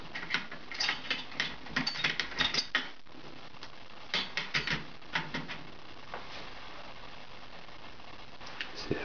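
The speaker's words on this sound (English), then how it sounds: "This is the other reason I like the aluminium tape. Very easily tear smaller pieces off." Strips of aluminium tape being torn into small pieces while fitting carbon fibre propellers, a series of quick crinkly rips and crackles coming in irregular bursts, close and fairly quiet.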